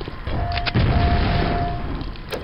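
Alternate fire from a weapon in the Quake VR video game: a loud, sustained booming blast with a thudding low end, lasting about two seconds, preceded by softer mechanical clicks, with no talk.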